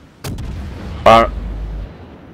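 Naval guns fire in the World of Warships game during a battle against the Hindenburg: a sharp first shot, then a heavier booming salvo about a second later, followed by a low fading rumble.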